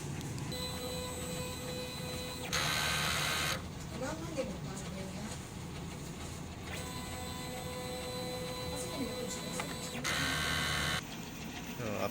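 A DTF printer runs a print head cleaning cycle with mechanical whirring and humming, plus two louder bursts of motor noise, under a steady background drone.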